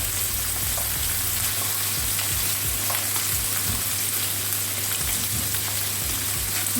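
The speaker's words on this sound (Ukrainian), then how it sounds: "Нам її потрібно підсмажити чуточку." Fish frying in a pan, a loud continuous crackling sizzle of hot oil with occasional pops, close up and steady throughout, without voices.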